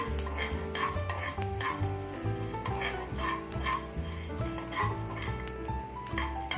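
Black peppercorns and cumin seeds dry-roasting in a pan on low heat, with continuous rhythmic scraping and clinking of a spatula against the metal over a faint crackle, close and steady.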